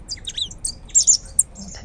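Tits and vinous-throated parrotbills at a bird feeder give quick high chirps and twittering calls in short clustered bursts, close by and fairly clear over quiet background.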